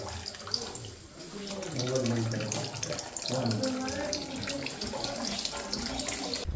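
Water runs steadily at the Ganga Godavari source on Brahmagiri near Trimbakeshwar, a continuous splashing flow like a tap spout, with people talking over it throughout.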